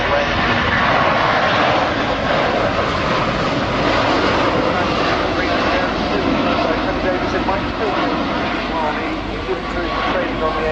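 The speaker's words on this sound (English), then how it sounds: "Completing their 360 turn with gear down as they accelerate away." A Boeing 757 jet airliner at the RIAT 2009 air show accelerating away with gear down after a 360 turn, producing a loud, steady, broadband engine roar that fills the whole stretch without letup.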